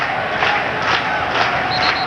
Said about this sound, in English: the slow hand clap is up for the Kiwis, for the All Whites